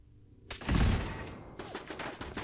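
Automated turret opening fire in Fallout 4 with a sudden loud burst of rapid shots, followed by a quieter trailing volley, after a moment of near silence.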